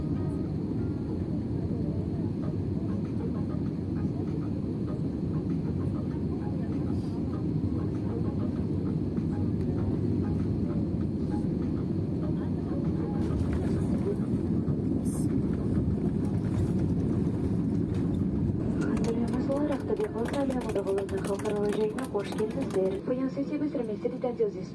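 A FlyArystan airliner cabin drones steadily on approach to Aktobe, a constant low engine and airflow roar with faint clicks and rustles, rising into brief bursts of higher noise near the end.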